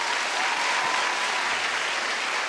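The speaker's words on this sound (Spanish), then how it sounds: "un aplauso para él también, Raquito" An audience in a TV talk show studio claps steadily, a dense, even patter of applause from many hands, close and sustained without talk.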